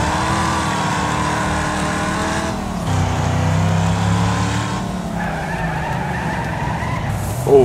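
A race car in Wreckfest slides into a corner under braking on a figure-eight track, tires squealing in long wavering tones over a steady engine drone.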